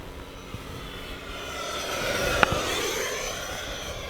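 FMS F-16C 70mm electric ducted-fan RC jet flying in cold air, a steady whooshing whine from a distance that swells gradually as it passes, with a brief sharp click midway.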